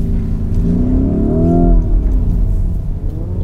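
A Lamborghini Urus on spiked tyres drifts on a slippery track, its engine rising in pitch to a revving peak and then easing off, heard loud and fairly close with a gritty tyre hiss underneath.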